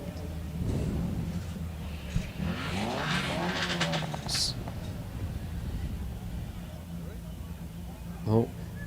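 A distant race car engine revs in rising, sweeping bursts beneath a commentator's voice and steady background crowd noise, at a Vintage Sports Car Club hillclimb at Wiscombe Park.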